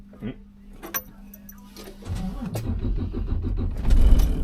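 A truck engine cranks and catches during a pre-trip safety check, a low rumble building and growing louder over a few seconds after some faint clicks, with brief talk in the cab.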